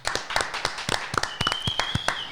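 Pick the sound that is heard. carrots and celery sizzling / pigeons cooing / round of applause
round of applause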